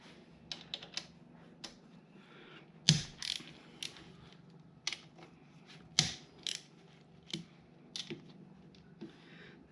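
A ratchet undoes 10mm bolts on a Grom motorcycle's oil pump, giving quiet bursts of rapid clicks with short pauses and a few sharper knocks between strokes.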